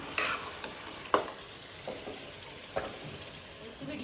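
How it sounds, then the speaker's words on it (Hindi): Gosht (meat) frying in a pan over a village kitchen stove, with a steady low sizzle broken by occasional sharp clinks and scrapes of a stirring utensil against the pan. "गोश्त नूं चंगी तरह भुन लावांगी जी"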